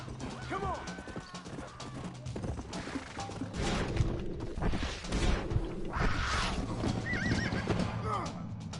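Horses in the video game Red Dead Redemption neigh and whinny repeatedly over clattering hooves, with crashes and thuds amid busy game action. A voice is heard briefly.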